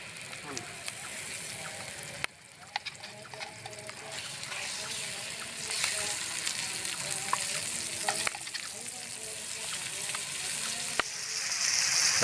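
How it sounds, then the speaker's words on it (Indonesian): Green chili sambal frying in hot oil for dry-fried grasshoppers, a steady crackling sizzle with stirring clatter throughout, a voice talking over it at moments. "kita goreng tuh sambalnya"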